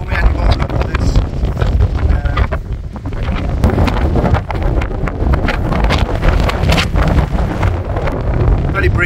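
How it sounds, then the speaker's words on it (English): Strong, gusty wind buffets the microphone at a mountain bothy in the Lake District fells, a continuous loud roar with rising and falling surges throughout. "It's very breezy now."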